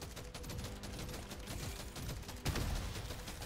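Rapid assault rifle fire in the video game Deep Rock Galactic: Survivor, a dense continuous fusillade of shots with a louder burst near the end, no talking over it.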